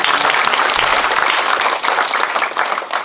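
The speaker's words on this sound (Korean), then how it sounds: "시장님께 다시 한번 힘찬 박수를 보내드리겠습니다" A community-meeting audience applauds the city mayor with loud, dense clapping that fills the room at close range, steady and vigorous with a brief dip before carrying on.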